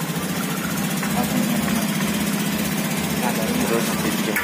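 A 2018 Honda Scoopy scooter, under repair for suddenly cutting out and traced to a stand wire, runs with a loud, steady close-up engine idle that holds evenly the whole time.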